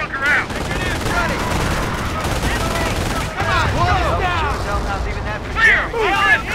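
Dense gunfire from the video game Company of Heroes, with bursts and rattling volleys overlapping continuously under shouted voices and other battle noise.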